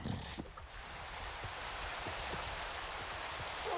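Rain in Minecraft falling as a steady soft patter and hiss, fairly quiet, with a few scattered drop sounds and no voices.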